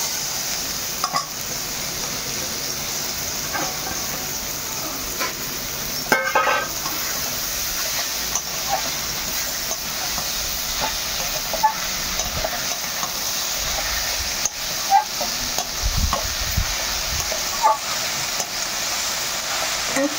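Boiled greens being stir-fried with garlic in a pan, a soft continuous sizzle with scattered clicks and scrapes of stirring, fairly quiet throughout.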